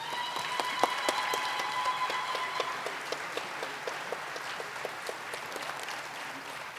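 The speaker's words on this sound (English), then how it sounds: "how about a round of applause for her?" Steady applause from a conference audience for an award recipient, moderately distant clapping that holds evenly and then gradually thins out.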